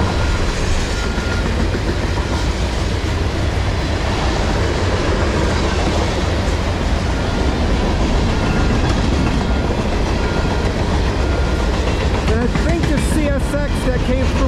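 A loud CSX freight train rolls steadily past close by, a continuous roar of wheels and rattling cars with some squealing near the end.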